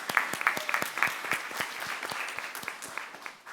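A small audience at a board meeting claps in sparse, distinct hand claps, fairly close and moderately loud, continuing steadily with no talk over it.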